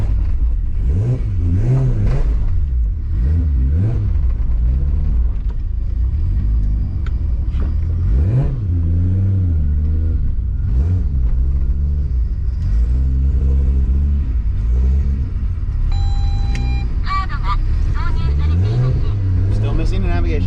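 A 700hp 2JZ-engined JDM Toyota Supra rumbles and revs hard, its engine note rising and falling repeatedly at launch. The sound is loud and close throughout, with a voice talking over it.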